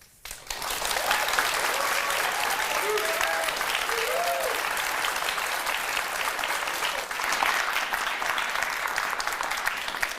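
An audience at a debate breaks into sustained applause, dense clapping that starts abruptly and carries on steadily at moderate loudness for the whole stretch.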